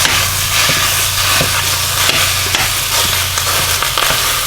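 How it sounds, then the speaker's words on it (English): One pound of ground sausage is broken up and fried in a skillet, giving a loud, constant sizzle with repeated scraping, crushing strokes of a utensil against the pan, close up with a low hum underneath. "So what I'm going to do is to break up this ground sausage"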